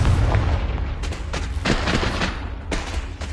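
A Confringo fire spell explosion in the Hogwarts Legacy video game, a burst of loud booming blasts with several sharp cracks layered over a dense rumble, continuous throughout with no talking.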